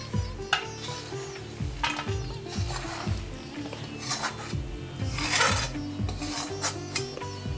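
A spoon rasps and scrapes repeatedly against a vessel as the cooked katla paak mixture is pushed out. The scrapes come in rhythmic strokes, close and fairly quiet, with no talk.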